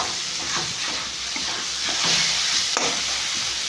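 Coriander and cumin filling being stirred in a dry pan, with a steady scraping and soft sizzling hiss, close by and continuous without talk.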